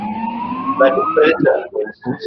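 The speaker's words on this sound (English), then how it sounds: "I've got a siren in the background too here." A distant emergency siren wails in the background on a Sydney street, its rising tone steady under a man's close conversational speech.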